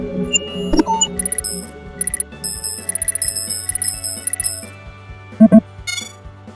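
Bright chiming bell tones ring out in short repeated bursts over a low musical bed, like a jingly notification jingle.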